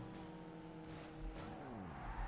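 A car drifting in the driving game Car Simulator 2, a sustained engine whine with tire squeal and skidding rising and bending in pitch, loud and close with no talk.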